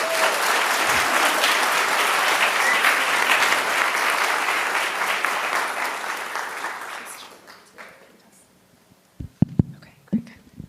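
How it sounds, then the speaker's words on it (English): A crowd at a demo day event applauds steadily and loudly for several seconds, then the clapping fades out, leaving a few scattered sharp claps and noises near the end. "please give a great, very enthusiastic round of applause"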